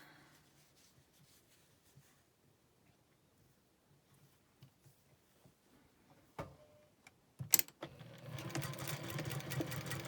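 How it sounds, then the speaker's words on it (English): Faint ticking and handling sounds lead into a sewing machine stitching a frayed four-patch quilt unit, with a few sharp clicks before the motor starts a steady close whir near the end. "So we'll just start out by sewing 1."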